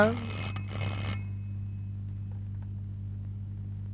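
A telephone gives a short electric ring of about a second, then falls silent, leaving only a low steady hum in the room.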